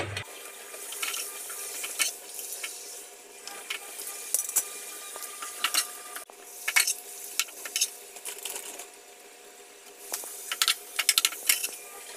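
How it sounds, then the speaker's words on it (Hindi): Pumpkin pakoras frying in hot oil as they are lifted out, a soft continuous bubbling sizzle with repeated sharp scraping and clinking of a utensil. "बना रही हूँ पामकिन की पकौड़ा। ये फ्राई हो गया, अभी मैं इसको निकाल लेती हूँ।"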